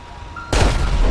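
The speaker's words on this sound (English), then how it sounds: "Ooh, another explosion." Explosion in the video game GTA 5 during a firefighter mod fire scene, a sudden loud boom bursting out of a quiet background and rumbling on heavily.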